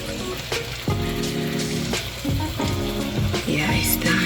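Steak frying in a pan for a beef and vegetable stir fry with rice, a continuous close sizzle with bursts of spattering and occasional stirring scrapes, no talk.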